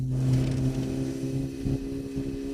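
Engine of an Autobianchi A112 small Italian hatchback while driving, a steady low drone with strong hum tones and a brief rise partway through, running continuously close up with no voices.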